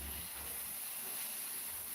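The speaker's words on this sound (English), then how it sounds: "So this way, you see, the egg is cooking instead of frying." Egg and vegetables steaming in a pan after water is added, giving a steady close hiss that stays constant throughout with no voices.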